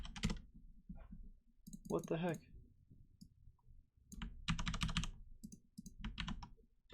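Clicky keystrokes on a computer keyboard tapping in irregular bursts, close and moderately loud, with a person talking briefly partway through.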